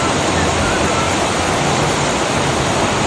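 A calm river at a farm campsite rushes steadily in a loud, dense broadband wash of flowing water, unbroken and constant throughout with no voices over it.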